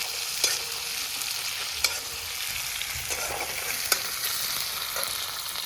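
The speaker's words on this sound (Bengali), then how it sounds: "পেঁয়াজগুলো দেখতে পাচ্ছ হালকা ফ্রাই হয়ে গেছে।" Onions frying in a pan for an Ichor Chingri (prawn) dish, a steady broadband sizzle with a few sharp clicks of stirring, loud and close, no voices.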